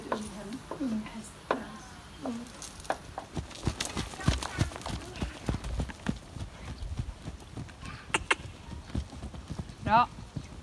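A young horse's hooves clop in a steady trotting rhythm on soft ground during riding training, with scattered voices talking quietly in the background and a faint whinny.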